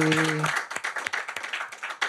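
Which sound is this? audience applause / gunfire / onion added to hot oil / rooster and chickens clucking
audience applause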